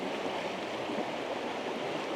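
A creek runs right beside a free campsite, its water making a continuous, close rushing and burbling hiss that stays level from start to finish, with no talking.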